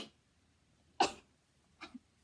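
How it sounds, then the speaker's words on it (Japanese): One sharp, sudden sneeze bursts out in a quiet room, followed by a smaller sniffly exhale, close to the microphone. "くしゃみ出る"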